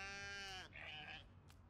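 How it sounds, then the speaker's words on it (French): A single sheep bleats in the video game Just Die Already. The wavering, nasal cry lasts under a second and is fairly quiet, followed by a brief faint trailing sound. "Non mais tu verras tous les moutons."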